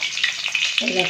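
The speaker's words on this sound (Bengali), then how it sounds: "আমি একটু হালকা করে ভেজে নিলাম" Hilsa fish fries lightly in hot oil with a close, steady, bright sizzle and crackle that carries on evenly throughout.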